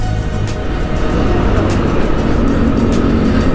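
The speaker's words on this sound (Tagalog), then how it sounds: "Grabe traffic pa rin talaga pag Sabado guys" Road traffic on Quirino Highway on a Saturday, heard as close, continuous engine and road noise from passing vehicles, loud and steady, with a few sharper surges.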